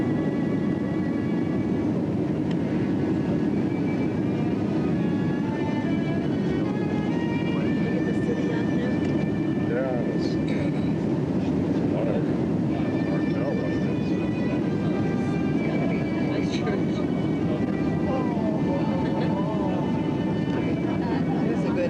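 Inside an airliner cabin on approach to land at Christchurch in 2001, a loud, unbroken engine and air drone fills everything, with faint voices murmuring underneath.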